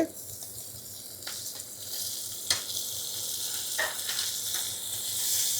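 Ginger garlic paste and tomatoes sizzle in a hot pan, a steady bright hiss broken by a few sharp crackles and stirring clacks, close by and without speech.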